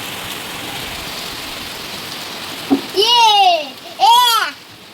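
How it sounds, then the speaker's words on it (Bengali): Heavy rain falls with a steady, loud hiss throughout, and a voice calls out twice over it near the end. "আরও জোরে জোরে আসছে বৃষ্টি"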